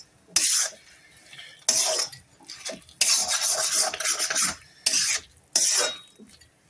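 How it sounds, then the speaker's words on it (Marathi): Fried potato pieces stirred into thick chilli sauce in a pan, a series of scraping, rasping spoon-and-pan strokes in bursts with short pauses between them, close and fairly loud. "आता आपण जे फ्राईज करून घेतले होते ना, ते याच्यात ॲड करणार आहोत. छान असं मिक्स करून घ्यायचं."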